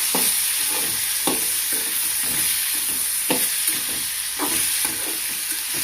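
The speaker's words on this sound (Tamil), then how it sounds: "தக்காளி நல்லா வதங்கணும்" Tomatoes fry in a pan for tomato chutney, a steady loud sizzle and hiss with occasional spoon stirs and scrapes knocking through it.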